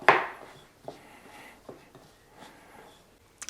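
Ground meat being worked together by hand with onion and a spice rub, a few soft squelching, slapping pulses spread across the moment, loudest at the start, with one brief sharp tick near the end.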